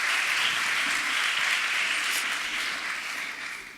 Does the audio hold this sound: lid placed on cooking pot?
no